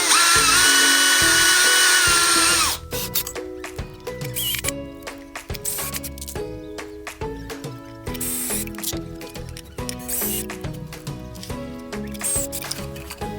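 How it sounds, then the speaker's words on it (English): A power driver sends a screw through a washer into a wooden dowel. A loud, steady whir opens, followed by a stuttering series of ratcheting clicks and bursts as the screw bites into the wood. "Slide that screw through your washer, and you're going to use those dots on your board as your template for guiding your screw through."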